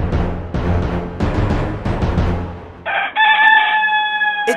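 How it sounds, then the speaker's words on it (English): A rooster crows loudly and up close in one clear, drawn-out call after a few seconds of dense, busy sound, standing out alone near the end. "what is that, a rooster?"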